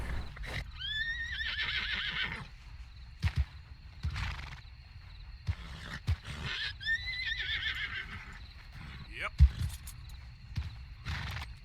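A horse in the open-world game Red Dead Redemption 2 whinnies twice in long, descending neighs, with snorts and hoof clatter between them and a voice talking underneath.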